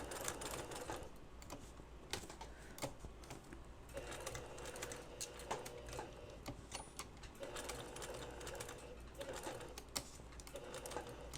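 An in-the-hoop embroidery machine stitches over an earlier line of blue thread, a steady rapid needle chatter up close with sharper periodic clicks and knocks throughout.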